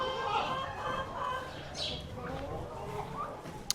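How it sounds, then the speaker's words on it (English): Farm fowl sounds during morning chores, with clucking and short bird calls in the background beneath a person's voice and a sharp click at the end; a full rooster crow is not clearly audible. "But the rooster crows."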